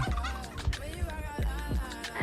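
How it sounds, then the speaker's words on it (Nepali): Turkeys gobble repeatedly in rapid, rattling bursts, loud and close, over a busy barnyard background. "टर्की हो त्यो"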